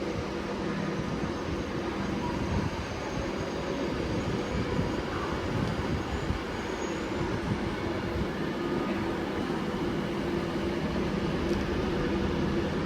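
A train idling at a Stockport station platform, with a low steady rumble and hum and a faint high whine, no voices.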